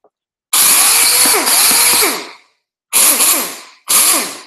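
A Chemical Guys Torx buffer runs in three bursts, a loud whining power-tool drone that winds down after each one, with short silent gaps between.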